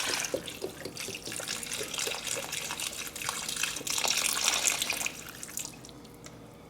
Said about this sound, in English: And then we're also going to add in 1 cup, this is apple cider.